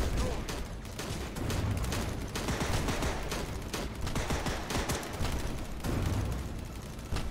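Guns and mortars firing in Cactus Cowboy VR, a dense loud barrage of rapid gunshots and heavier thumps repeating without pause over seven seconds.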